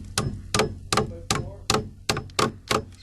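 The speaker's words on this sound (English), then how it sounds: "I'm just going to tap this in." A hammer taps nails into a sideways 2x4 in an attic during junction box installation: eight sharp, close, evenly spaced strikes with a steady rhythm and no talking.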